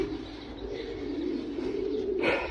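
Young French meat pigeons on a pigeon farm coo in a steady, overlapping chorus, with a brief burst of wing flutter near the end.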